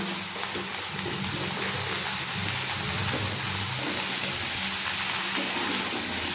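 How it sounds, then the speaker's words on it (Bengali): Vegetables fry and sizzle in a salted pan while being stirred, giving a steady, close, crackling hiss that runs without a break and is mixed with soft scraping. "এবার এটাকে আমি ভালো করে কষতে থাকবো"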